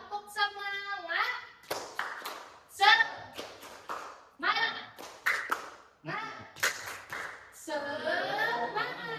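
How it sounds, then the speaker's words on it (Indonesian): Schoolchildren in a primary classroom run through a rhythmic spirit-clap routine, bursts of group clapping in patterned beats alternating with chanted and sung voices, the teacher leading and the class answering in unison. "Kita tepuk semangat dulu ya"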